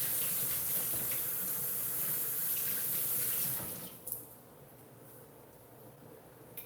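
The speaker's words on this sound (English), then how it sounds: "I'm gonna wash my hands real quick" Steady rush of water from a running tap over hands at a sink in a home kitchen, loud and continuous before cutting off abruptly, leaving a quiet room with a faint clunk.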